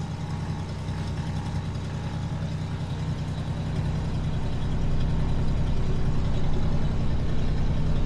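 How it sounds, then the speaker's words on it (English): A Mooney M20K 231 piston aircraft engine warms up at 1200 RPM, a steady loud low droning hum that grows slightly louder about halfway through. "we're gonna let the engine warm up. And I like to warm up at 1200 RPM"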